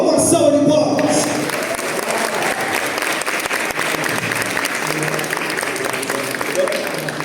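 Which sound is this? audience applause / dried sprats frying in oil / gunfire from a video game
audience applause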